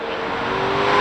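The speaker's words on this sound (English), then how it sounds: "In the left lane, 73 Corvette, big block, turbo 400. In the right lane, 69 Pontiac GTO," A 1973 Corvette 454 big block with a Turbo 400 and a 1969 Pontiac GTO Ram Air drag racing off the line, a loud, steady roar of engines revving and rising in pitch as they accelerate.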